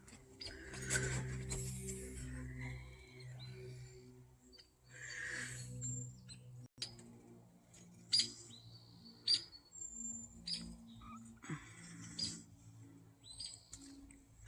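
Young woodpeckers at backyard feeders give repeated high chattering calls, mixed with other bird chirps and tweets, close and moderately loud over about fifteen seconds with no talk.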